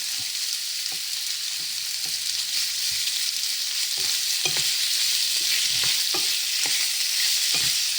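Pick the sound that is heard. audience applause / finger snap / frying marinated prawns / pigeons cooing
frying marinated prawns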